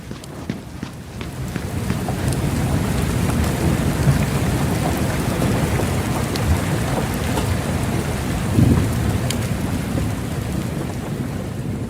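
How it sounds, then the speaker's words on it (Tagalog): Heavy rain pours steadily during a thunderstorm, a dense, loud roar with low rumbles of thunder rolling underneath and one brief heavier thud near the end. "Ang lakas ng bagyo."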